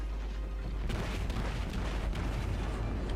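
Secondary battery guns of a warship firing in the World of Warships naval combat game, a dense, continuous rumble of booming shots with a few sharper reports standing out.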